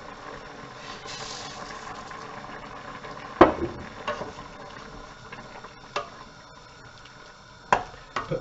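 Barley pottage simmers and bubbles steadily in a pot, with a few sharp knocks and scrapes of a stirring spoon standing out above the continuous boil.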